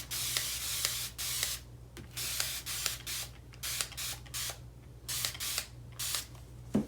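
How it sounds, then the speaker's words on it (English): Short bursts of a spray bottle misting water, repeated in an uneven rhythm with brief pauses between pumps, close by and fairly quiet, no talking. "I will spray these with water first"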